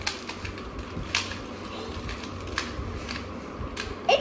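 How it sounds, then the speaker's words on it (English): A 3x3 Rubik's Cube is turned and scrambled by hand at close range, giving a steady run of quick plastic clicks and rattles against a faint hum of background noise. "But let's shuffle the Rubik's Cube."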